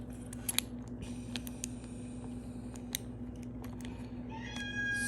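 A domestic cat meows in agitation near the end, rising over a steady low hum and scattered small clicks and taps from padlock parts being handled.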